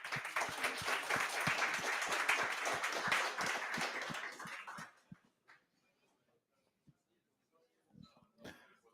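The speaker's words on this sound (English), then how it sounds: "let's start with a big applause for Vaughn Vernon." An audience at a microservices community meetup claps in a dense burst of applause for about five seconds, then it stops, leaving near silence with a few isolated claps and coughs.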